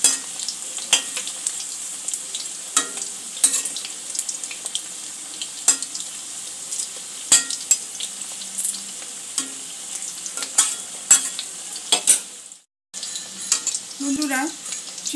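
Flour-coated chicken pieces frying in hot oil over a medium gas flame, giving a steady high-pitched sizzle with repeated sharp clicks and scrapes from stirring, briefly cutting out before resuming.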